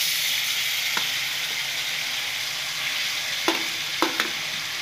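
Mashed tamarind frying in a pan for tamarind pickle, a continuous soft sizzle with a few sharp clinks of a spoon against the pan as it is stirred, no voices.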